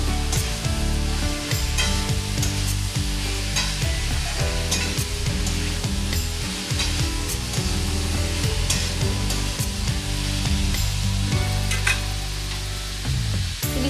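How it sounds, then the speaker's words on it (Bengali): Ash gourd with spices stirred in a pan for an ilish fish-head ghonto, a steady loud sizzle broken by frequent scraping strokes of the spatula throughout, with no talk. "চাল কুমড়োর সাথে মশলাটা আমি খুব ভালো করে মিশিয়ে নেব"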